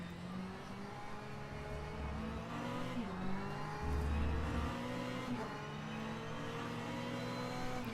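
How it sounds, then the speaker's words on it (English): GT3 race cars in a sim racing game at Zandvoort, engines droning and revving continuously with pitch steps as gears shift, several cars close together, moderately loud and steady throughout. "Listen to the gear shifts."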